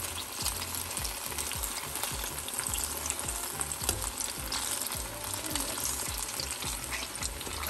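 Saba banana pieces frying in oil in a pan for a Filipino street-food dessert, a constant loud sizzle with rhythmic stirring scrapes throughout.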